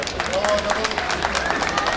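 Applause from an audience at an outdoor regional festival stage event in Turkey, a dense steady patter of many hands clapping throughout, with crowd murmur mixed in.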